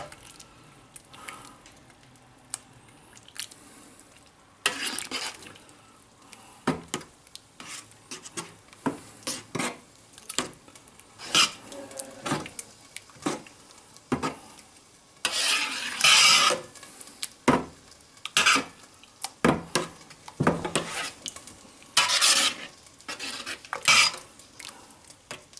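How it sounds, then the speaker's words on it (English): Vegetables being stirred into a large pan of spaghetti sauce: irregular scraping and rasping strokes of a utensil against the pan, with louder bursts of clatter through the middle and end, close up and without talk. "get all these veggies, and we incorporate. Stir it all in."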